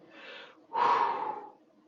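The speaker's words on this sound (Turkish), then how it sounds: "Derin derin nefes alıp vereceksin." A person takes a slow, deep breath in and then lets it out to calm down, two close, airy breaths with a short pause between them and no talking.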